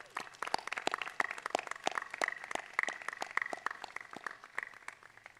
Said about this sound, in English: if you could please provide them a round of applause